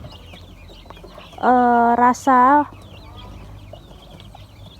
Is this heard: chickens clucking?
yes